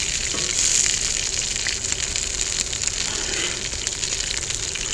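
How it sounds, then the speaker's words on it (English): Hamburger steak grease spits on a cast iron griddle: a close, constant frying hiss peppered with quick sharp pops and crackles, with no talking. "That grease is popping out everywhere"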